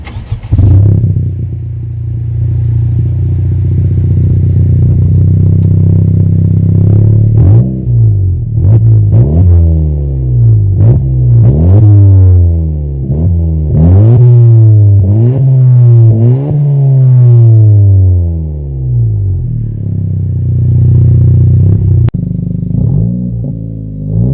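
A car with an aftermarket exhaust revving repeatedly, loud and close, with a deep rumbling idle broken by a series of sharp rising and falling revs in the middle before settling back to idle.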